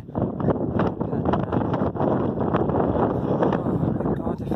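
Constant wind buffeting the microphone, a loud low rumble and roar that never lets up for the whole stretch.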